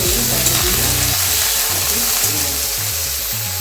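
Pointed gourd slices, still wet from soaking, fry in hot mustard oil, giving a loud, steady sizzle that fills the whole stretch, with a low bubbling churn underneath and no talk.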